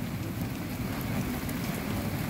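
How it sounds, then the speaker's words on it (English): Heavy rain pours steadily through a thunderstorm, a dense, even hiss of drops that stays loud and close for the whole stretch, with no voices over it. "Here comes the rain again, big time."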